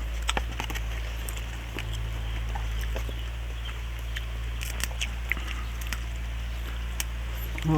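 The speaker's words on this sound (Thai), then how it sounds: "ฝนตกแล้ว" Rain falls steadily, a constant close wash of hiss broken by scattered sharp drips and taps throughout.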